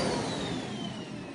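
A Miele CX1 Blizzard vacuum cleaner runs at its maximum setting on carpet, giving a loud, steady roaring whine with a slowly falling high tone and no talking over it.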